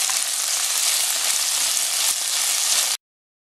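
Flour frying in a pan for beef stroganoff gives a loud, dense, steady sizzle and hiss close by. It runs without voices, then cuts off abruptly near the end.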